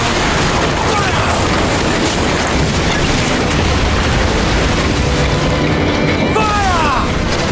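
Cannons firing a broadside from a sailing ship in the video game Assassin's Creed Black Flag, booming loudly and steadily under a thick roar of battle and sea noise, with shouting voices in the mix.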